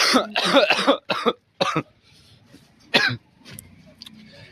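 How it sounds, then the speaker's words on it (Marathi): A few sharp, harsh coughs in quick bursts, close and loud, separated by short quiet gaps with faint background noise. "खोकला लगेच वाढत आहे"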